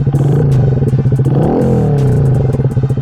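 A 2025 Honda Grom SP motorcycle with a stage 1 tune idles with a loud, lumpy, pulsing engine note close by, then revs up and back down once midway before settling into its choppy idle again.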